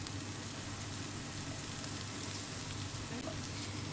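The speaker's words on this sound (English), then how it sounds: "Add carrots and cabbage. Mix well." Carrots and cabbage stir-frying in a pan, giving a steady, quiet sizzle that runs without a break and has no talk over it.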